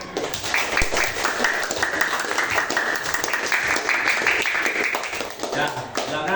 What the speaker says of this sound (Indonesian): Sekali lagi tepuk tangan untuk 7G.